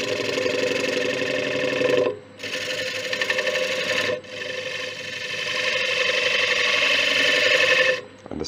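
Wood lathe turning a large ash bowl as a tool takes light cuts, a steady rasping, whirring scrape broken by three short pauses, loud and close with no talking.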